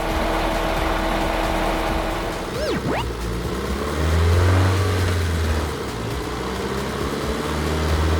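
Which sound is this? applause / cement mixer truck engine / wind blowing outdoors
cement mixer truck engine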